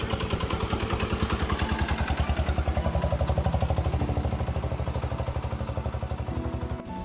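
An engine-powered van chugs along beside a moving boat, its motor giving a steady, rapid, clattering beat that stays prominent and fairly close and fades slightly toward the end.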